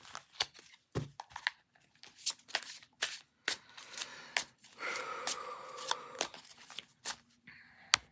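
Tarot cards are shuffled repeatedly up close, crisp riffling bursts and soft slaps in an uneven rhythm, quiet overall with no talking.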